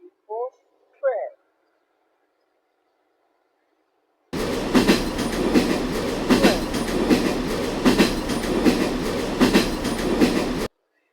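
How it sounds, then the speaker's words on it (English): A short spoken phrase, then after a pause a passing train rumbles loudly with rhythmic clickety-clack of wheels on rails for about six seconds before cutting off. "T for train."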